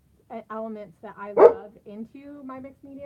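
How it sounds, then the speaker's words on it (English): A pet dog, agitated by passing sirens, lets out one sharp bark in the middle of a person's steady talk. The bark is brief and cuts in over the speaking voice. "my dogs are all going crazy because they heard all the sirens"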